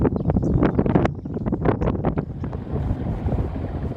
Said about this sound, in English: I'm sure you can hear how blowy and breezy it is.